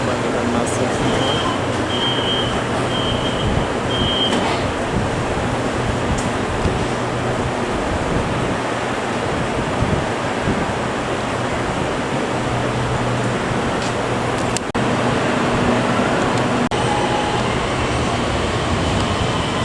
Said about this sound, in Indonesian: Ini adalah MRT menuju Sentul Timur.